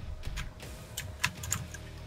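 Computer keyboard keys clatter in quick, irregular bursts during a fighting game session, light close clicks alone with no talking.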